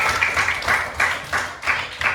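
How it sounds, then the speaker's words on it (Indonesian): A classroom of children claps together in a pulsing, rhythmic pattern: loud bursts of applause rise and fall about twice a second, close by and filling the room. "tepuk tangan untuk kita semua ya"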